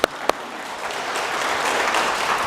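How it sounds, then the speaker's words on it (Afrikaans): A church congregation breaks into applause for its Jukskei team: a couple of sharp early claps swell into steady, full clapping from the whole room that continues throughout. "So kom ons gee vir hulle hande klap."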